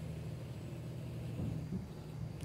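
A Volvo truck engine in American Truck Simulator drones with a steady low rumble, swelling slightly partway through, with no talk over it.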